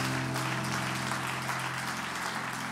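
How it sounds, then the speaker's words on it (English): A church congregation clapping hands in praise at the close of a Sunday morning prayer, a dense steady wash of applause over a low hum from the room. "You can give the Lord a hand clap of praise."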